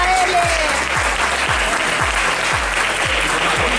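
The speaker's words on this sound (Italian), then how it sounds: "prenditelo un applauso" Audience at an award ceremony at Lucca Comics & Games applauding, with sustained, close, dense clapping alongside a regular thumping beat of background music.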